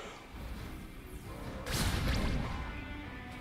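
A heavy impact whooshes and crashes from the Paw Paw fruit's ball cannon attack in Grand Piece Online. A loud burst rises midway through, set against a dense, constant game soundscape.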